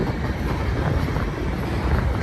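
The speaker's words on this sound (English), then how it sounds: "medium gondolas, coil cars. This train probably came from Mexico." A Union Pacific manifest freight train of gondolas and coil cars rolls past at Cajon Pass, a steady low rumble and rattle filling the short stretch without pause.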